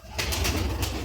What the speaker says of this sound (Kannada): ಇವತ್ತಿನ ವಿಡಿಯೋ ಪಿಜನ್ಸ್ ಸೇಲಿಗಿದೆ